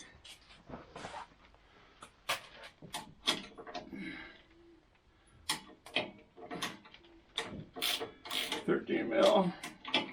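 A ratchet wrench loosening bolts on a Woodland Mills HM122 sawmill head assembly, giving repeated close clicking runs and metallic ticks at an uneven pace, with a few soft taps and rustles between.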